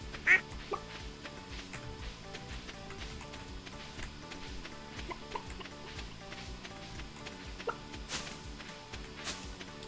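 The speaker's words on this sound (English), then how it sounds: "I just bought 4 ducks." Ducks quacking on a farm in the video game Stardew Valley, a burst of quacks near the start followed by scattered short calls over a busy, steady game-music background at low volume.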